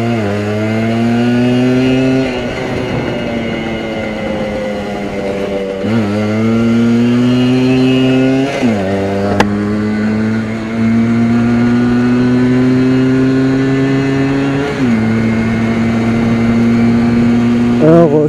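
A 1979 Yamaha FS1 50cc moped engine pulls hard through several gear changes, its buzzing two-stroke note rising steadily in pitch, then dropping briefly at each shift before climbing again, loud and close throughout.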